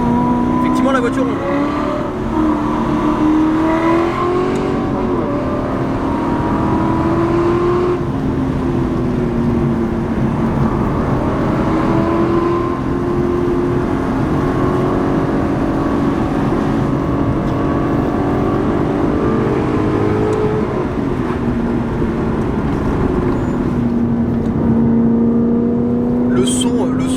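An Aston Martin V8 Vantage S engine rises and falls through gears while driving on a winding road, a loud throaty V8 roar, with someone talking over it inside the car.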